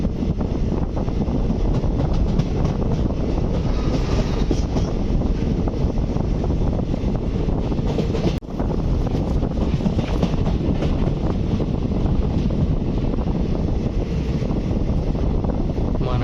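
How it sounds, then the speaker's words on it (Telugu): A train pulls in at Kottayam railway station in Kerala, a steady loud rumble of wheels and wind lasting throughout, with one brief dip in the middle and no talk. "ట్రైన్ వచ్చేసింది."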